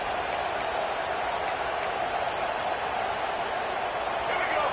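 A stadium crowd in a Texas A&M college football video game gives off a loud, steady, continuous roar. It stays at an even level throughout with a few faint higher accents.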